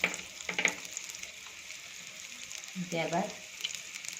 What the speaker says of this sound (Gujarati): ત્યાં સુધી આપણે એને ફ્રાય કરીશું. આપણે ટિક્કીને આ રીતે સેટ કરી દઈશું નોનસ્ટિકમાં.